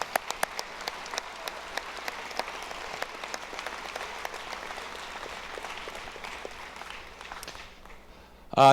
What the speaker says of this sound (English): let's give your parents, friends, and family a big round of applause